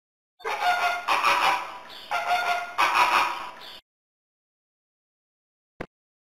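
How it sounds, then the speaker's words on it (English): Flamingos give a run of harsh, honking, goose-like calls, loud and close, in four bursts grouped in two pairs, then silence and a faint click. "Flamingo."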